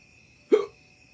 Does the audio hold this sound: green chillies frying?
no